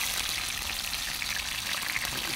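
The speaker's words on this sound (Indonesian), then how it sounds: "kita mulai menggoreng bro" Fish, a local Minang catch called ikan kalang, frying in a pan during the first of two fryings, giving a steady, dense oil sizzle that carries on evenly throughout with no talk.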